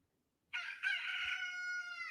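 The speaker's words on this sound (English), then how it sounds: "You see a rooster early in the morning." A rooster crows once, a loud, clear, sustained cock-a-doodle-doo that starts abruptly and holds steady to the end, with no other sounds around it.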